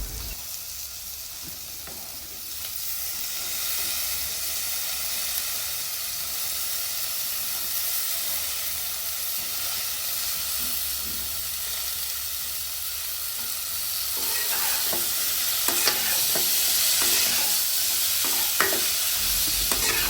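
Spices stir-fried in a pan for a village-style Bangladeshi small-fish curry with potatoes, beans and tomato; a steady close sizzle throughout, with scraping stirring strokes growing louder toward the end.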